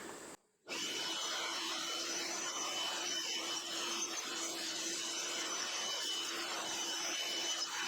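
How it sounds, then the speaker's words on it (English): A DeWalt 20V cordless blower used for bee removal roars in a continuous, steady whoosh after a brief pause at the start, running evenly and close by. "And we're going to send them for a ride with our bee blower."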